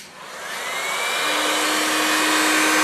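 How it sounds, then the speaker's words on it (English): A heat gun or hair dryer running to heat the glass of a broken device, a steady loud whooshing blow with a faint whine that rises as it spins up, no talk. "you take a heat gun or a hairdryer"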